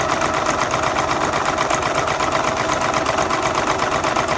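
A domestic sewing machine stitching embroidery runs alone at a steady, fast, even pace, its needle hammering rhythmically and loud throughout.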